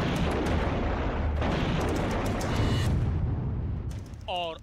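Artillery cannon fire in the Russia-Ukraine war rolls out as a sustained loud, rumbling blast and its echoing roar, tailing off into quieter ambience at the end.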